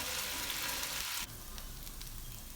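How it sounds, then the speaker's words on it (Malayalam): Cooked mutton for a Kerala-style fry sizzles in hot oil in a pan, a continuous close frying hiss that drops slightly partway through as it is stirred, with no talk. "ഇതിങ്ങനെ ഇടയ്ക്കിടയ്ക്ക് ഇളക്കി കൊടുത്ത് നന്നായിട്ട് ഫ്രൈ ചെയ്തെടുക്കണം."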